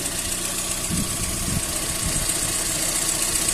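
A VAZ 21081 1.2 car engine, fitted with a Solex carburettor, idles steadily at a low, even rumble, close and continuous, with faint rhythmic knocks and no voices.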